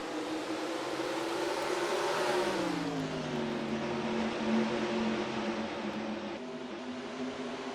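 Stock cars race in the NASCAR Racing 2003 video game, a steady loud drone of engines that rises in pitch and then sweeps lower as the pack accelerates out of a turn, continuous with no talk.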